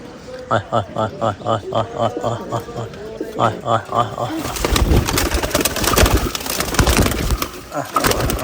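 Pigeons coo close by in repeated rhythmic throaty calls while they feed. Later, louder scuffling and pecking noises take over, mixed with fainter coos.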